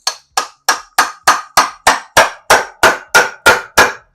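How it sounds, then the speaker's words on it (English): Twelve sharp, evenly spaced taps of a small hammer ring out close by in a steady rhythm while removing a Scion tC transmission, with nothing else in between. "Here's my little working hammer."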